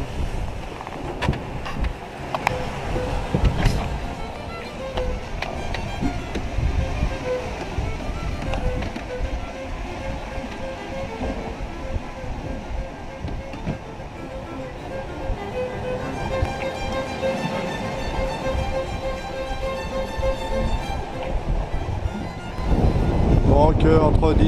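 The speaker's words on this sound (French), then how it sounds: "Il y a du vent et ça pousse bien, donc il y a une vingtaine de nœuds de vent." Sailboat crossing the Atlantic in about twenty knots of wind, sailing with a reefed mainsail, gives a steady wash of water and wind noise across the whole stretch. It swells near the end, and a voice talks over it in places.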